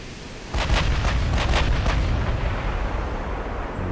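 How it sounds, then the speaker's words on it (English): Naval cruisers fire their guns at the player's ship in the Ultimate Admiral: Dreadnoughts game: a quick volley of deep booming shots blending into a loud, sustained rumble of distant gunfire. "Cruisers firing at us."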